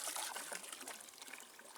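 Water trickles steadily as wicking tubs for a hydroponic garden are filled, a soft continuous close-up dribble with no voices.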